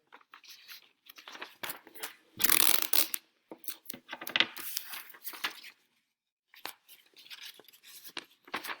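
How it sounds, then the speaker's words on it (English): Strips of masking tape are torn off and pressed onto a paper foldable, with scattered close crackles, rips and rustles broken by short pauses, and no voices. "Tape it together."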